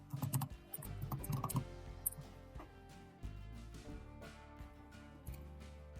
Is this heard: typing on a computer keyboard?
yes